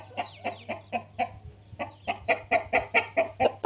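A black Lasani Aseel rooster clucks in a steady series of short, close, fairly loud calls, about a dozen in quick rhythm with a brief pause midway, over a low constant hum.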